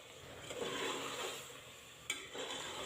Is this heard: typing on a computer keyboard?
no